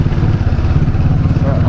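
A motorbike rides over rough roads in the Philippines, its engine droning steadily up close with a clattering, bumpy rumble underneath throughout.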